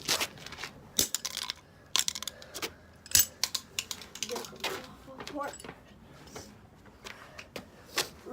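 A plastic fidget cube is smashed apart with sharp irregular cracking and clacking hits and small rattling bits between them, under occasional quiet talk.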